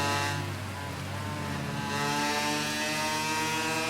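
A motorbike engine in the Ride 3 racing game drones at a sustained high pitch while the bike holds a wheelie, its tone rising slightly partway through, loud and steady with no talk.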